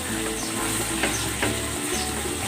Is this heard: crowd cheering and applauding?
no